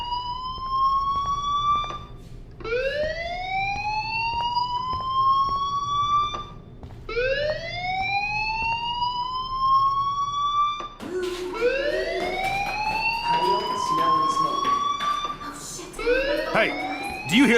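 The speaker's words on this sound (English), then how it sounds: "Hey, do you hear that fire alarm?" School fire alarm from the video game Life is Strange wails in repeated rising sweeps, loud and continuous, with a harsher, busier stretch near the end.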